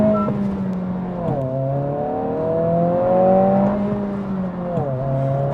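A 2026 Honda Civic Si pulling hard in first gear, its engine note, including artificial sound enhancement, rising steadily in pitch as revs climb, then dropping briefly at a shift point before climbing again, heard from inside the cabin.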